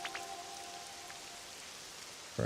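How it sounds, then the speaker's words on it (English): Pouring rain in the Pokémon game Pokopia, a steady soft hiss of downpour at low volume throughout, with a brief louder burst at the very end. "So much rain, it's pouring."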